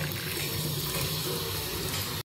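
Used tea leaves washed under a running tap: a loud, steady rush of close water that stops abruptly at the end.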